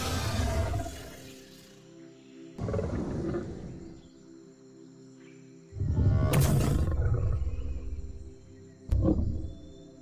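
Creature calls from the video game Creatures of Sonaria: four loud, rough roaring bursts, each lasting a second or two, separated by short pauses, with no talking.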